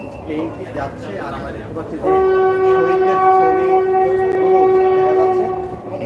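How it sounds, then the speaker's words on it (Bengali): A train's horn sounds loud and sustained for several seconds, steady tones over a busy crowd, with voices chattering before it starts. "আপনারা শুনতে পাচ্ছেন কি না আসলে ট্রেনের যে আওয়াজ সে আওয়াজ"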